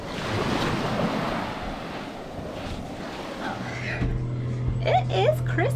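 Steady wind and rolling surf wash across the whole recording on the coast of Baja, with a voice talking in the last couple of seconds.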